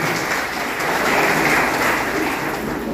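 An audience at a Maharashtra award ceremony claps to welcome a guest, a dense continuous wash of applause swelling slightly in the middle, fairly loud and without speech.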